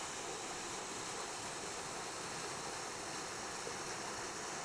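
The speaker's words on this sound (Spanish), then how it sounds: "El río, pues, sigue su curso." A river in an extensive Iberian river basin flows with a steady, broad rushing wash, constant and fairly faint, with no voices.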